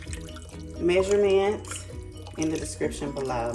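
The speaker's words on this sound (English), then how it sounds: "You can pour it all on top of there. Just add you some beef broth." Beef broth pours into a crock pot for a pot roast, a soft liquid splashing and trickling heard faintly beneath a person talking over it.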